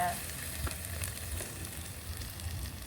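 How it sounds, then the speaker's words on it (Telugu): Ginger garlic paste frying in a pan for a long beans curry gives a steady, moderately loud sizzle with a low crackling rumble and faint stirring ticks, continuous and close, with no one talking. "అల్లం వెల్లి పేస్ట్ కొద్దిగా ఫ్రై అయ్యాక"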